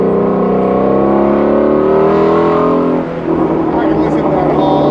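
A sports car engine with an 8,000 RPM red line revs high and strong from inside the cabin, its pitch climbing steadily before dropping off as the throttle eases.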